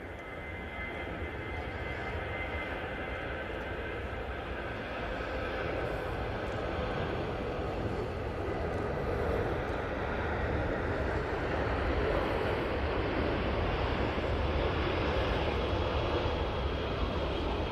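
A Jet2 airliner takes off from Manchester Airport bound for Palma de Mallorca, its engines a broad, steady roar that slowly swells in loudness over nearly eighteen seconds, heard from a distance.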